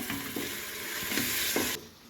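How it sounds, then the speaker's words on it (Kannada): Ground green chili and coriander masala goes into tomatoes frying in a pan, a steady sizzle broken by a few scraping stirs of the spoon, close and moderately loud with no talking. "ಈಗ ರುಬ್ಬಿಟ್ಕೊಂಡಂಥ ಮಸಾಲೆ ಅಂದರೆ ಹಸಿಮೆಣಸಿನಕಾಯಿ ಮತ್ತು ಕೊತ್ತಂಬರಿ ಸೊಪ್ಪು ಹಾಕಿದ ಮಸಾಲೆಯನ್ನು ಸೇರಿಸ್ಕೊಳ್ತಾ ಇದ್ದೇನೆ"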